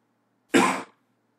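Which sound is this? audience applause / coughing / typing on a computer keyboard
coughing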